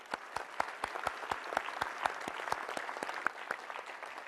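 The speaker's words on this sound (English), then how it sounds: "let's give them all a round of applause" An audience at a spacesuit unveiling for a moon mission applauds with fairly sparse, crisp claps, distinct hand strikes standing out over a steady background of applause.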